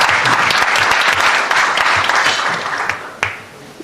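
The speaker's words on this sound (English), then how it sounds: "Let's give them a round of applause" An audience at a Wisconsin political luncheon on tariffs applauds with steady, dense clapping that fades out after a few seconds, a few louder individual claps standing out at the end.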